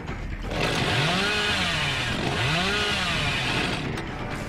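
Chainsaw revving from the Hillbilly killer in the horror game Dead by Daylight, a loud continuous whine that swoops up and down in pitch in two long surges with no voices.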